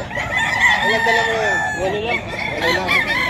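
A two-year-old yellow-legged Sweater bloodline gamecock rooster crows loudly and close at a crowded early-morning pet market in Bocaue, Bulacan, its call overlapping other fowl and a busy background.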